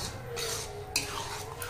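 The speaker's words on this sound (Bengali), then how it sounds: "এবার এইভাবে বেশ কিছুক্ষণ শুধু নাড়তে থাকবো, যাতে কড়াইতে না লেগে যায়।" Motichur laddu mixture with melon seeds being stirred in a wok over raised heat, a close, steady scraping and shuffling with a brief metallic clink near the middle, no voices.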